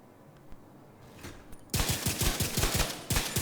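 Rapid, evenly spaced shots from a TAC 50 rifle in a video game, about a dozen loud reports in quick succession after a quieter opening with a few faint clicks.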